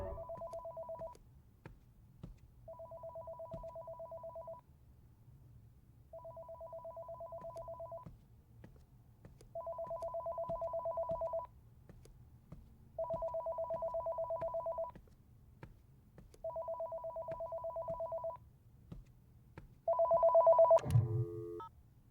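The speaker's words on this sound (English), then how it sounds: "I hear the phone ringing down the hall." A telephone rings down a hall in a horror video game, seven evenly spaced electronic ring bursts over a low hum, ending with a sharp click as it is picked up.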